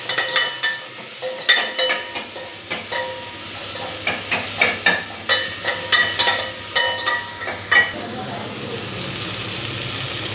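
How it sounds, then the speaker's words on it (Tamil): Okra sautéing in oil in a pan, with a steady sizzle under repeated sharp clinks and scrapes of a spatula turning the pieces, close by. "வெண்டங்காய் சேர்த்துட்டு நல்லா எண்ணெயிலேயே வதக்கி விட்டுக்குங்க."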